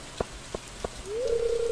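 Rain falling in the video game Stardew Valley, a soft steady hiss with a few separate drop-like taps, then a sustained rising tone joins in at the end.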